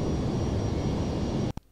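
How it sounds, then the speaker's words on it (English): A jet flying low over a city in Microsoft Flight Simulator 2020, a steady, loud broadband engine roar that holds throughout before cutting off abruptly near the end. "jet overflying some urban area"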